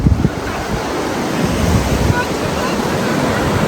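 Sea waves at Digha Mohona beach rush and wash close by at morning, loud and continuous, with wind buffeting the microphone throughout.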